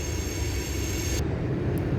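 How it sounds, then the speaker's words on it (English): A train rumbles past continuously and loudly, a steady heavy roar with a high metallic whine that cuts out partway through. "when is this train gonna go away?"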